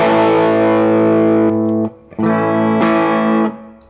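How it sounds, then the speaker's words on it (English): Overdriven electric guitar through Suhr pedals, loud sustained distorted chords ringing out with short breaks between them, alone with no talking. "It's an overdriven sound."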